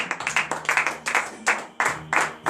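A morning prayer congregation claps and acclaims, with loud, uneven bursts of clapping rising and falling in waves rather than a steady wash.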